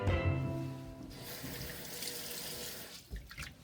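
Running tap water splashes steadily into a sink as a whole turkey is rinsed and scrubbed with lemon, a continuous close wash with brief thumps of handling near the end.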